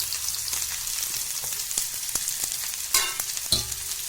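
Onion sizzles and crackles steadily in hot oil, with a few louder stirring clatters from a spoon against the pan.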